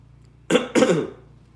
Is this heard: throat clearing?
yes